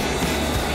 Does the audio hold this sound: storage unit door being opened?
no